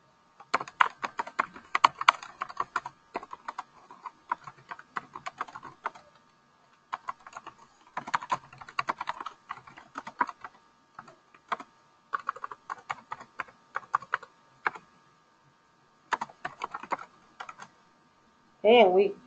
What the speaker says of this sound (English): Of course, you're going to type something better than what I'm typing.